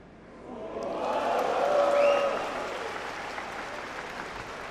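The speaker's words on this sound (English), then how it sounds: "The crowd loving it, but the acknowledgement, it was lucky, took the sting out of their applause." A crowd at the 2023 Hanoi Open Pool Championship quarter finals applauds. The clapping swells steadily, peaks around the middle, and then eases into a softer, sustained patter.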